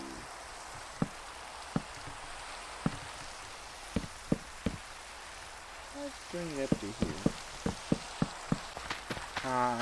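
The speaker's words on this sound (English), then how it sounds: "Nothing like farming in the rainy nights while skeletons shoot arrows at us." Rain patters steadily at night in Minecraft, a soft continuous hiss broken by sharp clicks and game sound effects, with a voice talking over it.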